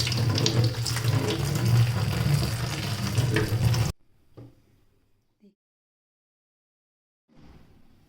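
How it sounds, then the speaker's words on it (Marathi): Drumstick flowers washed in salt water under a running tap: a loud, steady gush of water for about four seconds, then near silence with a few faint clinks and a soft rustle near the end. "स्वच्छ चांगली मिठाच्या पाण्याने धुवून काढायची"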